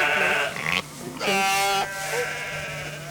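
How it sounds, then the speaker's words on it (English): Sheep of mixed breeds on a farm with about 200 head bleat in a lambing shed, several close, loud wavering calls following one another, the longest near the middle, with a steady low hum beneath. "They keep about 200 sheep here of mixed breeds."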